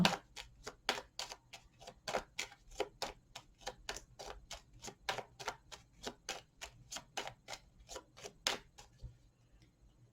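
Tarot cards shuffled and cut by hand, a rapid series of crisp, evenly spaced card snaps and taps, close and fairly quiet against a silent background, with no talk.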